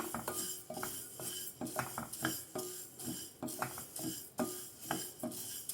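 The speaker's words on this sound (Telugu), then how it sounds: "గోల్డెన్ బ్రౌన్ కలర్ వచ్చే వరకు ఈ పెసరపప్పును మనం ఫ్రై చేసుకోవాలి మధ్య మధ్యలో కలుపుకుంటూ ఉండాలి" Moong dal being stirred as it fries in a pan on a low flame, with a faint sizzle under a rhythmic series of clinking spoon-against-pan scrapes, close and fairly quiet, no talk.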